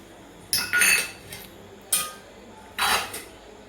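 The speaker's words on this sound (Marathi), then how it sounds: "हे बघा मी वाट्यामध्ये अगोदर थोडी थोडी डाळिंब टाकत आहे।" A spoon clinking against bowls while pomegranate seeds are served, three or four short, bright, close clatters separated by pauses, with no one speaking.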